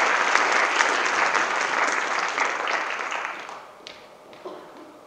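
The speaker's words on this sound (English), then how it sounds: "Please will you give our group one and class of 2020 one more round of applause" Applause for the class of 2020 at a visual communication graduation, a full crowd clapping loudly that thins out and tapers off over the last second or so into a few scattered claps.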